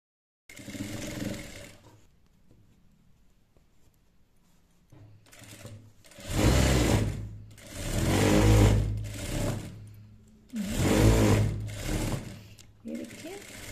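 A sewing machine stitching a lined blouse sleeve, running in several loud bursts of rapid rhythmic whirring separated by pauses, with a person talking between runs.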